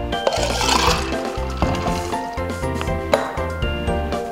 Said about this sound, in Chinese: 最后呢加入冰块